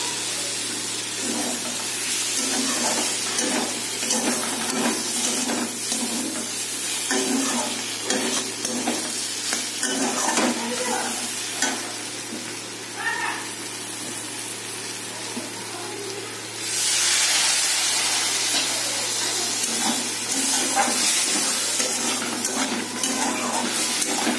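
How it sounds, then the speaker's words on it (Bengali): Water pours into a pan of simmering fish curry, giving a steady hiss and bubbling sizzle that swells louder near the end, with occasional stirring and no talking. "এর মধ্যে জল দেবো পরিমাণ মতন"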